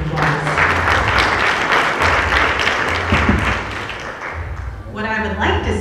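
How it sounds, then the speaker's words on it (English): Big, sustained applause comes from an Indian community gathering in Dallas–Fort Worth honoring a politician. Thick, even clapping carries for several seconds, with a low rhythmic thumping beneath, and a speaking voice briefly emerges at the end. "So please give yourselves a big round of applause."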